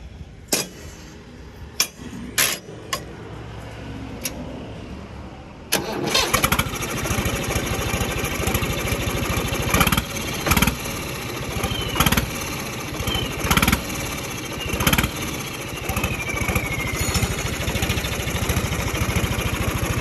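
An 855 turbo tractor engine cranks and catches after a few seconds of quieter sputters, then runs loudly and steadily with a rough, pulsing idle and occasional sharp knocks.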